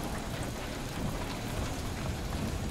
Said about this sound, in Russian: Питер Квилл лодырничает под дождем.